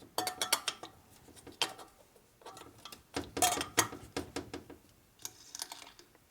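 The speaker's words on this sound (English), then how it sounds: "when you tighten up this side of the spokes here, it pulls the rim this way. It makes this noise harder." Metallic ticks and pings from spokes being tightened on a 1965 Harley-Davidson Panhead FLH motorcycle wheel during repair, arriving as quick irregular bursts of close, bright clinks with short pauses between them.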